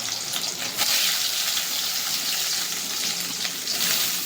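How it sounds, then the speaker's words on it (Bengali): Boiled, washed soybeans fry lightly in a pan with a dense, close, continuous sizzle, louder bursts at the start and fading slightly toward the end. "সয়াবিনগুলো সিদ্ধ করে ভালো করে ধুয়ে জল থেকে নিয়ে একটু ভেজে নেবো হালকা করে"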